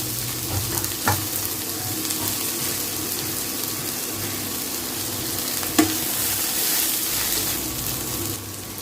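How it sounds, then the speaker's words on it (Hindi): Potatoes and onions frying with long beans in a pan, a steady close sizzle running throughout with a couple of sharp clinks of a utensil against the pan. "अब इसमें हम डाल देते हैं आलू और प्याज, दोनों डाल देते हैं।"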